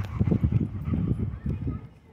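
Dogs at a dog park give a string of close, punchy barks in irregular bursts, with people's voices mixed in around them.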